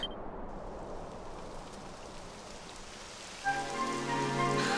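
Rain begins falling in the Dragon Quest XI video game as a soft, steady patter. Partway through, a louder wash of rain joins in along with a sustained musical tone.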